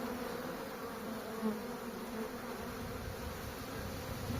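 Honey bees buzz around an outdoor hive, a steady close swarm drone that holds evenly throughout with no voices.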